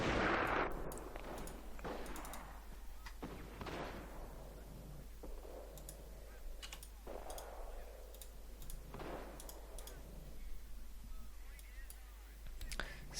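Mortar fire in the Company of Heroes strategy game: a series of thuds and blasts recurs every couple of seconds over steady background battle noise, with a voice talking faintly beneath.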